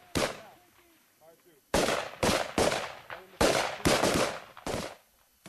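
Suppressive gunfire from Marines in a firefight with Taliban in Afghanistan: loud sharp bursts of rifle and machine-gun shots, close by, in an irregular rapid string with brief gaps and echoing decay.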